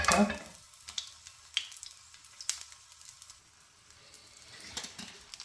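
Garlic frying in a generous amount of olive oil in a pan, a soft steady sizzle and crackle close by with scattered light pops and stirring taps.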